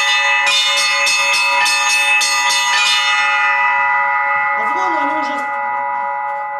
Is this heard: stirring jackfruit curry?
no